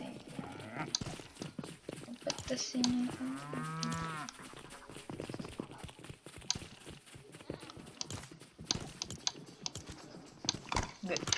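A cow in a Lego video game gives one long, drawn-out moo that rises and falls in pitch, set among busy clattering clicks and taps.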